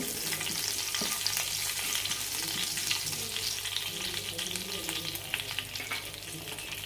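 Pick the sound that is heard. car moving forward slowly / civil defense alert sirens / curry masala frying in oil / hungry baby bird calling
curry masala frying in oil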